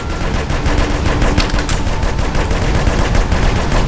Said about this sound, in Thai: ปืนนี่อย่างเดียวยิงรัวๆเลย